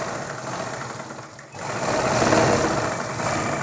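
A sewing machine stitching a fabric neck collar, a steady close mechanical whir that pauses briefly and then runs on louder and continuously.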